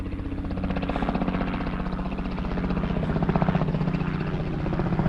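A helicopter passes at a distance over mountain country, its rotor giving a steady, fairly faint rhythmic thumping that holds throughout with no talk.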